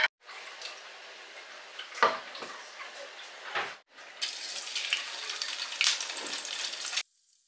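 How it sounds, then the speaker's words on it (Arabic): Food frying in a pan, a steady crackling sizzle that swells and fades in bursts, with a louder stretch near the end before cutting off abruptly; no talking. "تعالوا خلي نقلي"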